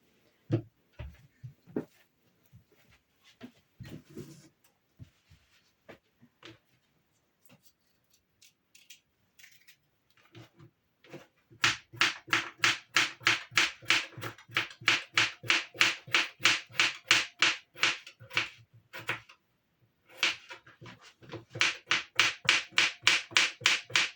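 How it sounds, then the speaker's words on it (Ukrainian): Knife slicing a cucumber on a cutting board in a kitchen, first a few scattered taps, then a fast, steady run of sharp, close chopping clicks with a brief pause before it resumes. "І тепер, друзі, наріжу огірочок."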